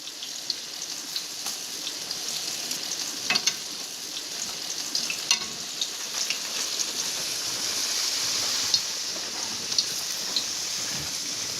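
Steady crackling sizzle of zucchini slices frying in a hot pan, continuous and close, with occasional louder pops.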